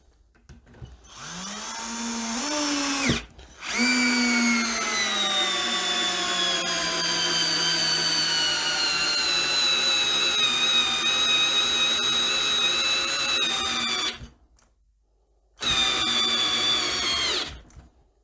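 Cheap Edon AD-12AUN cordless drill on first speed driving a screw into wooden boards, a loud steady motor whine with a rising pitch at startup, a brief stop near three seconds, then a long continuous run, a gap, and a final burst.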